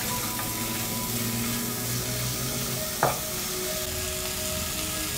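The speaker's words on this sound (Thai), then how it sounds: "เดี๋ยวอุ้มจะรวนให้น้ำมันเขาออกมาเล็กน้อยก่อนนะคะ" Pork stir-frying in a pan with no added oil, rendering its fat; a continuous close sizzle with stirring noises runs throughout, with a single sharp utensil knock near the three-second mark.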